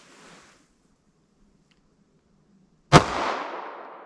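A single sharp 9mm+P Hornady Critical Duty pistol shot from a 3.2 inch barrel cracks out after near silence, loud and close with a reverberant decaying tail.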